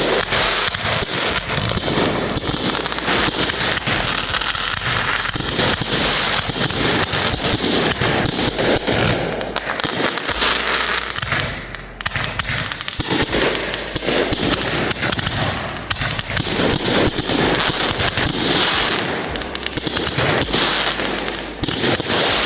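Fireworks finale with a thousand firecrackers mixed in and a big 3-inch shell, a dense, continuous crackling barrage of loud pops with a few brief lulls and heavier bursts, no talk.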